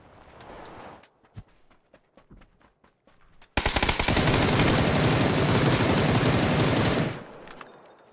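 Suppressed SLR marksman rifle fire in the PUBG battle royale game: scattered single shots for a few seconds, then a loud, dense stretch of rapid overlapping gunfire lasting about three and a half seconds before tapering off.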